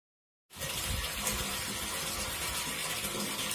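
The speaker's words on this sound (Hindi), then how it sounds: "अभी तक मोटर चल रही है, अब देख रहे पानी में वाइब्रेशन है," Water gushes steadily as an electric pump motor runs during a float switch installation, starting abruptly after a brief silence and continuing as a loud, dense rush of flowing water.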